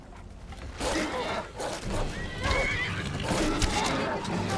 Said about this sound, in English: Oh shit, I accidentally shot Sophia's horse.